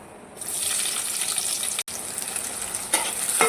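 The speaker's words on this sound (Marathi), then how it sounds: "कांदा छानपैकी तळून घेऊया।" Onion sizzling and frying in hot oil with curry leaves in a kadhai for tomato chutney, a steady loud crackling hiss that starts after a moment of quiet, with a brief dropout and a few stirring scrapes near the end.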